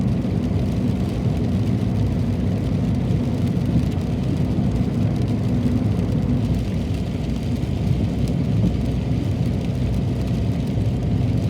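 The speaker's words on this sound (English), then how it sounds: "I love to hear the sound of the rain." Early morning rainfall in northern Italy, a steady, unbroken low rushing hiss of rain that stays even and moderately loud from start to finish, with no voices.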